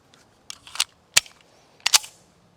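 A Tisas 1911A1 pistol fires several sharp, loud shots in quick uneven succession, some in close pairs, with short gaps between them.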